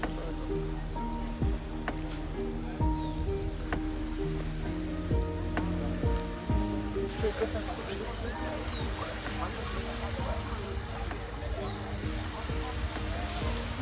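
River waves wash against the shore at a nature reserve in Buenos Aires, a constant, sea-like roar of surf that continues throughout while someone speaks briefly over it.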